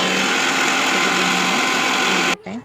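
A mixer grinder whirs loudly and steadily as it grinds soaked cashews and almonds, a continuous close motor drone that cuts off abruptly near the end.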